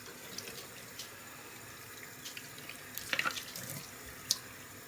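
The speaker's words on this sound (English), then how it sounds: "just let the water run over the strands just for a second" Tap water running over synthetic wig strands in a sink, a soft steady stream with faint splashing and a few small drips and clinks, quiet and close.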